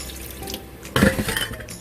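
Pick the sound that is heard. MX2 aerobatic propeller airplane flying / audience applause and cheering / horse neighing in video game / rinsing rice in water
rinsing rice in water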